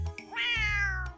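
A cat from a video game, a store kitty, gives a single clear, close meow that rises and then slides down, with a faint background hum.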